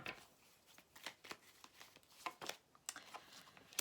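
Tarot cards are shuffled close up, a series of quick, soft riffling and slapping bursts at an irregular rhythm, faint and alone.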